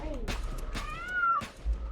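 A voice imitates a cat meowing, producing several rising and falling meow-like calls in a row, close and moderately loud, with game sounds underneath.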